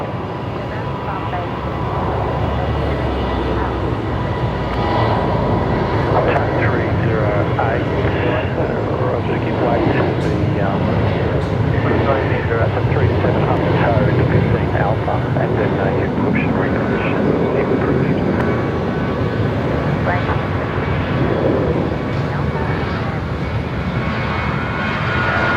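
A Qantas airliner begins its takeoff roll at Brisbane Airport, a loud sustained engine roar that stays steady and powerful throughout, with people talking faintly underneath.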